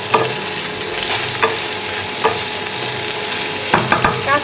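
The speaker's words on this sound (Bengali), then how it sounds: "এই যে ভেন্ডি ভাজি বসে দিলাম" Okra (bhindi) frying in a pan with green chilli nearby, a close, loud sizzle broken by several sharp scraping knocks as a spoon stirs it, with no one speaking.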